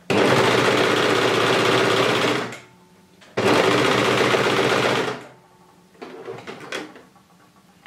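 A sewing machine stitches elastic onto a bikini strap in two loud, fast bursts of a few seconds each, separated by a pause, followed by quieter handling sounds.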